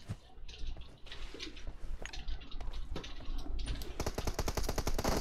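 Gunfire in PUBG Mobile, with scattered shots early, then a fast run of sharp, loud cracks near the end that could be pistol fire in quick succession.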